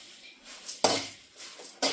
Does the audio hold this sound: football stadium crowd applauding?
no